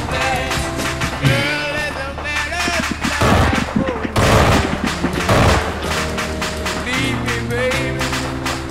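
An aircraft gun run strafes the ground in ArmA 3, with rapid heavy cannon fire and booming impacts rolling over a steady engine drone, loudest in the middle, while voices talk over it.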